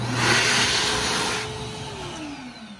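An ASI Ultra Compact electric hand dryer runs with a steady, loud whooshing motor-and-airflow roar that eases slightly partway through, heard close up with no talking.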